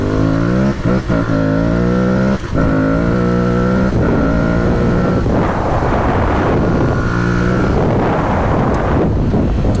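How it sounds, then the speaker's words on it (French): Aprilia Tuareg 660 motorcycle accelerating hard on a trail, a loud close engine climbing through the gears with rising pitch sweeps and brief gaps at shifts, while heavy wind buffeting roars over the microphone and no one talks. "Hop là, et on met les gaz."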